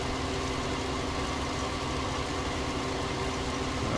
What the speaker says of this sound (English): Our other tractor is on its way, and the Deutz is on its way back as well.